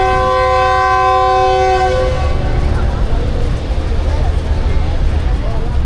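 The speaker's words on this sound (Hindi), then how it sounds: "फर्स्ट डिपार्चर विसल हो गया" A loud departure whistle from the Hazara Express sounds as one sustained tone for about two seconds, then fades into a steady station rumble and crowd noise.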